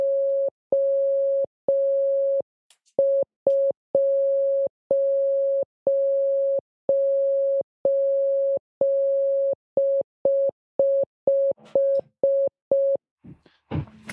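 A Morse code signal beeps in a steady single tone, a long run of short and long beeps with even gaps, loud and clean, ending in a brief burst of rustling noise.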